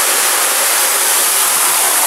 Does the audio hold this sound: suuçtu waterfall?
yes